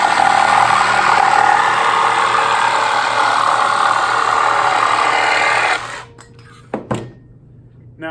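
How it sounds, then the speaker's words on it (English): A jigsaw cuts through wood. Its loud, steady buzzing motor runs nonstop for about six seconds, then cuts out, and a few short knocks and rattles follow. "Now I'm making the two most difficult cuts with the jigsaw"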